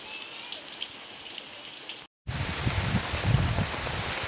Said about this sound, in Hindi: इधर देख सकते हैं आप लोग कितना बारिश हो रहा है 3 दिन से।